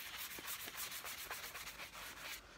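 Rhythmic back-and-forth sanding of wood on a Hofner Beatles bass guitar, a rasping scratch repeated quickly and evenly, close and fairly quiet, stopping at the end.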